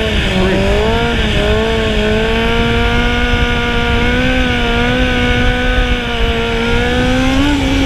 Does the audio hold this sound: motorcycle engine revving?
yes